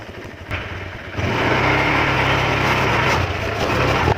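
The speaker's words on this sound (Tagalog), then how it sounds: "ito po guys ang gagamitan kong motor, yung motor ko. Honda Click." A small Honda Click scooter engine hums at idle, then rises to a steadier, louder buzzing drone that holds, close by and with no talking.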